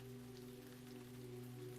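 Soft, steady rain hiss spreads across a calm backdrop with a low sustained drone beneath, faint and continuous with no voices.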